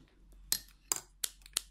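Scissors snipping through knitting yarn after finishing a hand-knit brimmed hat, four crisp, close metallic snips spaced irregularly, fairly quiet with no talk.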